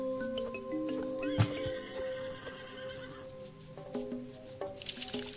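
Horses neigh and whinny in the Age of Mythology strategy game, a few calls layered over steady game background sounds, with a brief loud snort near the start.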